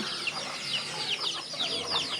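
A steady chorus of birdlike calls fills the air, many overlapping chirps and clucks from a flock of chickens, fairly close and continuous.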